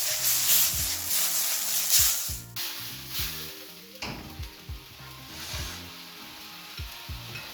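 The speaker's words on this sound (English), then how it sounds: "So carefully add your beef to the hot pan." Beef hits a hot, smoking pan with a loud, steady sizzle. Sharp low knocks and scrapes from stirring break through the hiss at irregular intervals, and there is no speech.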